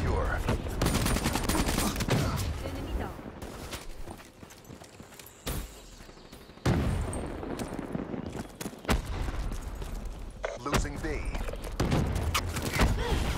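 Gunfire in the first-person shooter Black Ops 3 multiplayer, rapid bursts of shots and volleys spread across the clip, loud and dense with game effects, briefly dropping out midway before resuming.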